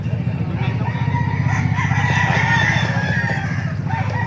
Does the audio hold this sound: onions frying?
no